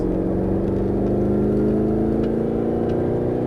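A Mercedes-Benz SLS AMG engine pulls hard onto a straight on a Las Vegas race track, a steady loud droning roar with rising tone heard from inside the car.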